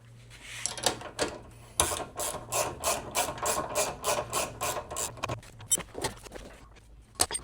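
A ratchet clicking in quick repeated bursts while removing the winch rollers from a 2010 Polaris Ranger, close and crisp with short pauses between strokes.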